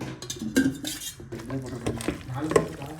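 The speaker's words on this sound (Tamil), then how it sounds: "பாருங்கள் எப்படி கலக்கிறோன்ட்டு" A spoon stirs spiced chicken biryani marinade with maida flour, oil and chili in a metal bowl, clinking and scraping repeatedly at close range, with a little background noise.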